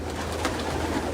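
Pigeons in a coop cooing, a low soft throaty murmur from several birds close by over a steady background hum.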